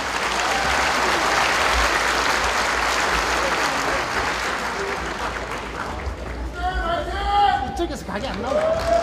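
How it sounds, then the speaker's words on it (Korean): Crowd applause at a national representatives' rally for reviving neighbourhood commercial districts, loud sustained clapping from a large audience with crowd chatter, and a voice speaking toward the end. "여러분, 이 정책이 채택될 수 있도록 큰 박수를 보내주시기 바랍니다."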